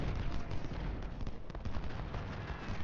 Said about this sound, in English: Get your one volley off and then get out of there.